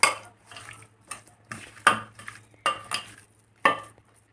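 Raw mutton is mixed by hand in a bowl with salt, ginger-garlic paste and lemon juice, producing about six close, rhythmic scraping and clinking strokes against the bowl with short quiet gaps between them.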